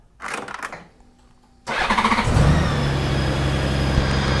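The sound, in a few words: Honda Goldwing motorcycle engine starting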